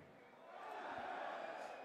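At the 2023 Austrian Darts Open, the home arena crowd cheers for a player in a low, steady roar that swells after the first half-second and keeps going under a commentator's voice.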